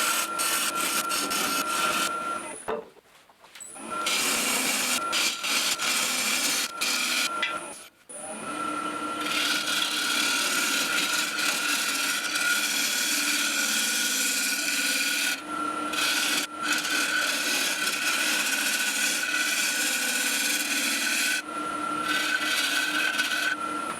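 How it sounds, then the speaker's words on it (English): A skew chisel cuts a tenon on a zebrano wood bowl spinning on a lathe, giving a steady, close scraping rasp with a faint whine. It drops out in brief pauses and carries on without talk. "Now I'm just going to use my skew chisel to get a tenon shaped for the chuck to grip to."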